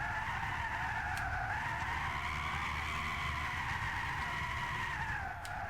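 Tesla Model S tires skidding in a sustained drift in the video game Gran Turismo 6, a continuous loud tire squeal with a wavering pitch, heard alone over a steady engine bed.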